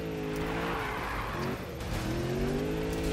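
Car drifting in the Need for Speed racing video game, with a steady engine drone and long sustained tire squeal sliding in pitch, loud and continuous throughout with a brief dip midway.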